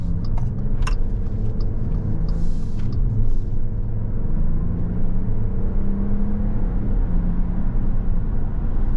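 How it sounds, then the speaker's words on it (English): A 2024 Jeep Wagoneer Series II 4x4 with a straight-six and 8-speed pulling away from a left turn, a steady low engine drone and road rumble heard from inside the cabin, with a few light clicks early on. "We're going to do a takeoff right here from this left turn."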